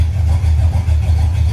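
A square body dually truck with a carburetor, air cleaner and body-dropped stance runs steadily with a deep, continuous low rumble, loud and close, with no voices over it.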